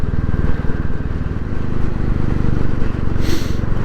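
A Royal Enfield 350 motorcycle engine runs close by with a loud, throaty, steady thumping idle, pulsing evenly throughout with a brief hiss near the end.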